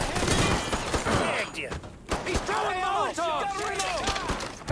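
Gunfire in the Mafia 3 video game on PS4: loud, dense bursts of shots and impacts run throughout, with someone talking excitedly over the action.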